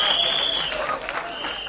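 A crowd applauds at a film trailer launch event for 'Tu Jhoothi Main Makkaar', with brief, steady clapping mixed with a high steady tone and crowd noise.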